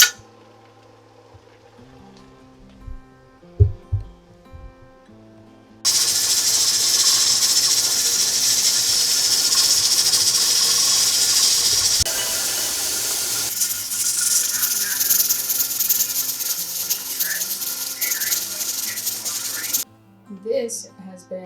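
An All-American pressure canner on a portable burner releases a loud, steady hiss of steam that holds for about fourteen seconds and then cuts off abruptly, with a person talking before and after.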